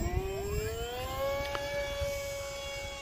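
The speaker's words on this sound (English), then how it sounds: "This airplane is a lot of fun." Hobbyzone Aeroscout RC airplane flying outdoors in wind, its electric motor giving a steady whining drone that rises slightly in pitch, heard from a moderate distance over wind noise.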